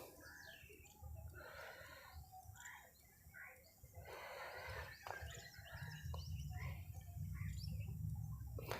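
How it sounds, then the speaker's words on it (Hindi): Birds call and chirp around a pond in a park under construction, a steady chorus of small, fairly faint tweets and trills near and far, with insects buzzing softly beneath. "इस तालाब में ये पक्षी आपको दिखाई देंगे"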